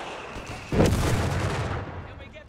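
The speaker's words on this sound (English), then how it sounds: "Mine set off." Landmine detonation in Company of Heroes 3, a sudden loud boom that rolls into a long rumbling decay over continuous battlefield ambience.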